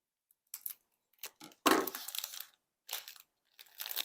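Scissors trimming the edge of a faux peppermint candy, a few short, close snips and crunchy cuts in separate bursts, one longer crinkling cut in the middle, with quiet gaps between and no talking.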